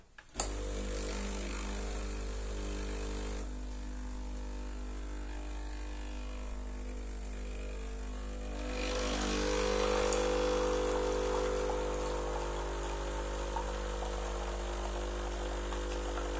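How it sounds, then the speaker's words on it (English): Breville Express Impress espresso machine extracting coffee, a steady low pump hum and buzz throughout, swelling a bit louder partway through as the flow builds, with no talking. "I just press this, and hopefully you see the coffee coming out"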